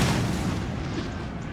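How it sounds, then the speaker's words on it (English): Artillery bombards a house during a Waterloo battle in Napoleon Total War, producing a dense, loud wall of booming rumble that slowly fades, with no voices. "the British players brought over his artillery to bombard the house"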